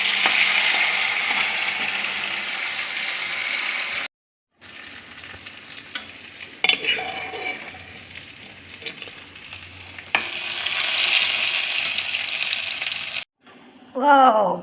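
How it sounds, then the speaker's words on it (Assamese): Fish pieces frying in hot oil give a loud, steady sizzle with brief pauses and stirring noises, and the crackle flares up again toward the end. "এয়া মাছকেইডোখৰ ফ্ৰাই কৰি লৈছোঁ।"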